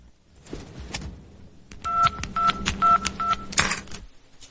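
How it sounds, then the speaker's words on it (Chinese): A telephone being dialed for a long-distance call: a rapid run of short, evenly spaced keypad tones, close and clear over faint room noise, ending in a brief clatter. "一天到晚打长途电话"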